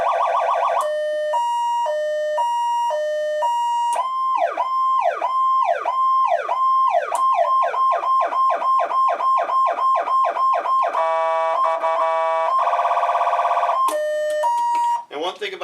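A Powercall DX5200 siren steps through its tone patterns one after another: a slow two-note alternation, rapid repeating whoops, a fast yelp and a harsh buzzing tone, all loud and close with no break between them.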